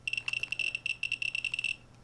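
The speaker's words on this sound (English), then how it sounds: "the beeps do sound different in this sense because I changed the sort of like the beep duration" A homemade Geiger counter with a digitally programmed beep duration gives rapid, irregular high-pitched beeps, a quick cluster of short chirps up close over a faint low hum, ending abruptly.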